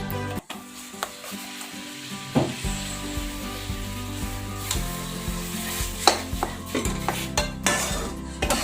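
Grated jaggery melting with a little water in a kadhai, stirred with a utensil that scrapes and knocks against the pan in irregular clatters over a low, steady sizzle, close and fairly loud.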